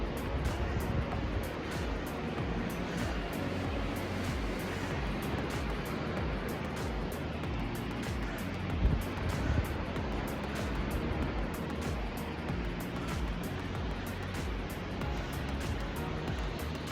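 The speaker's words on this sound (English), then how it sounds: "The waterfall is beautiful from this point." A waterfall at Tallulah Gorge seen from the South Rim Trail gives a continuous, even roar of rushing water, distant and steady for the whole stretch.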